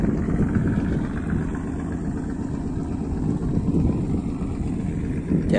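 A fishing boat motors past on calm evening water, its engine giving a steady low rumble that swells slightly as it nears and carries on alone with no talking.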